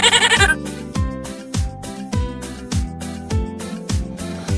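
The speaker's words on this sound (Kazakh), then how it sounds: "Ешкі," A goat gives a short, wavering bleat at the start, set in a children's farm-animal cartoon. Bouncy music with a steady bass beat follows and continues to the end.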